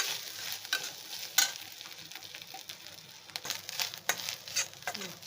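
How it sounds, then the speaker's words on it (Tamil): Cashews and grated coconut roasting in a pan, with a soft sizzle under frequent scraping, rustling stir strokes that come in irregular bursts, close and moderately quiet. "வறுத்துட்டு நல்லா முந்திரியும் திரிக்கின தேங்காயும் நம்ம இதில் சேர்த்து வறுத்து போட போகிறோம்"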